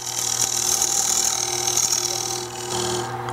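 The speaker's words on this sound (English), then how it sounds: "we're just scraping a tenon that we can either put in a glue block or grab in a four-jaw chuck" On a wood lathe, a scraper cuts a tenon on spinning oak for a bowl: a steady, close, rasping shaving noise over the machine's motor drone that eases briefly toward the end, with no talking.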